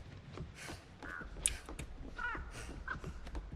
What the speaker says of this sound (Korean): 까마귀 안 없어지는데요?